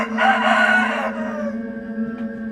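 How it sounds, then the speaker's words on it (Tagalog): A rooster crows in the early dawn hours in a rural Philippine province, one long loud call that trails off into a steady low hum and faint background noise. "isang manok ang tumilaok sa tansya ko"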